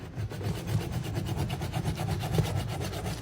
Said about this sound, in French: avec une lame comme celle-ci, on fait des rayures dans tous les sens pour rendre la matière en relief